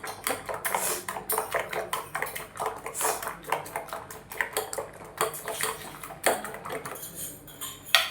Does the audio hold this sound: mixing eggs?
yes